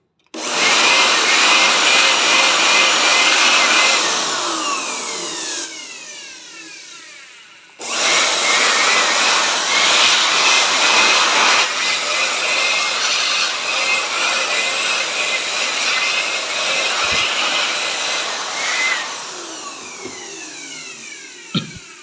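An air blower cleans out a computer power supply with a loud, steady hissing rush. It cuts off briefly partway through, then starts again and runs on.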